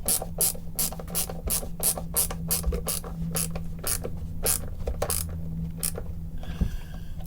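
A ratchet screwdriver drives screws into guitar hardware, giving rapid, crisp, close clicking in regular strokes with brief pauses, over a faint steady background hum, then stopping near the end, with no talking.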